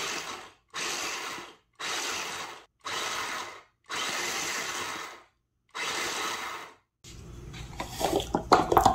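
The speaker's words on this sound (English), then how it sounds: "I'm going to just pulse this until it's coarse crumbs" A food processor pulses toasted pecans into coarse crumbs: six loud, even bursts of about a second each, separated by short silences, then a rattling, clattering close.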